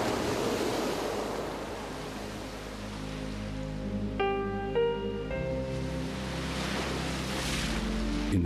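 Sea waves wash and break against rocks along the Algerian coast, a continuous close roar of surf with wind, while a brief tonal musical phrase briefly rises above the water midway.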